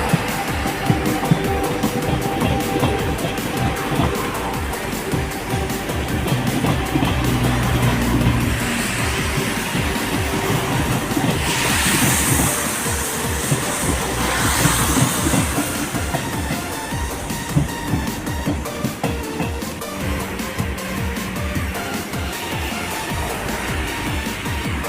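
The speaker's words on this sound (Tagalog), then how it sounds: "Yan po yung regular nilang train" Regular passenger train rolling past in Pisa, Italy, a steady loud rumble with clattering wheels and a brief brighter screech midway, continuous throughout with no talk over it.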